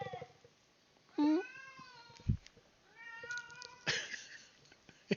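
A loud cat meows several times close by, long drawn-out, wavering cries separated by short pauses, with a sharper, strained yowl near the end and no talking.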